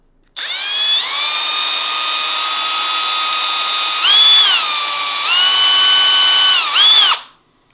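A power drill whines loudly and steadily while working a pinewood derby car axle, its pitch dipping and rising a few times under load before it cuts off near the end.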